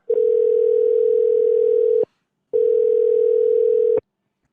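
A telephone dial tone sounds as a call is placed, two long steady beeps of about two seconds each separated by a short silence, loud and clean with nothing else underneath.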